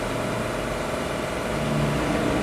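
A sambal sachet packing machine runs at half speed, giving a dense, steady mechanical hum and whir at close range with no break and no speech.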